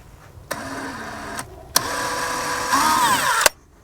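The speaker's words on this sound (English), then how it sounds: "Now, it's time to drill some holes." A power drill whirs in several short bursts, starting and stopping abruptly with pauses between, close by and fairly loud, drilling holes during a Jeep JKU plate system install.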